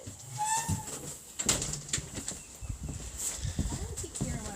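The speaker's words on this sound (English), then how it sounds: "That's a bird." A bird calls outdoors in short chirps and coos, partly under a person's talking, with ambient rustle around it.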